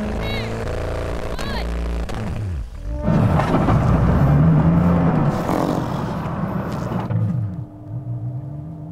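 A Koenigsegg and a Tesla Model X Plaid launch side by side in a drag race: a loud, close engine roar swells and holds, then fades away, with voices heard at the start.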